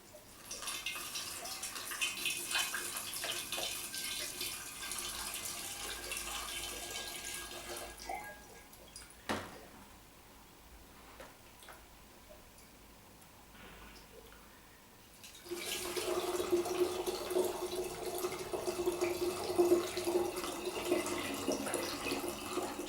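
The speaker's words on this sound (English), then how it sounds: "I'm going to put some of the wine in this and just pour it in." Wine pours and splashes into a demijohn in two long stretches, separated by a quieter pause with a few clinks and drips.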